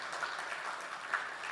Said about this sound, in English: we should give a round of applause to the